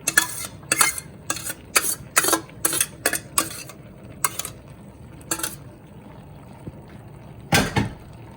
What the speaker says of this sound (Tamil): இப்போ மீதம் இருக்கிற எல்லா நூடுல்ஸ்லையும் போட்டுட்டு கிளறுவோம்